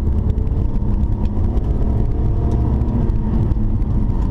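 A 2004 BMW 330Ci coupe on the road, with steady loud engine drone and road rumble heard from inside the car, even and continuous throughout.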